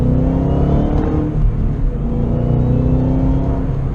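Shelby GT500 Mustang accelerating, a loud, close V8 engine note rising smoothly and continuously, deep rumbling throughout with no talking.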